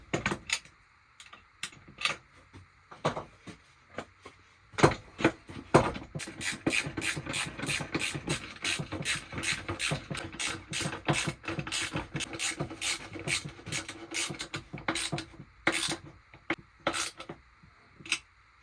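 Nuts and bolts being tightened on a skateboard deck, with rapid repeated ratcheting clicks in quick bursts, close and fairly crisp, no talking.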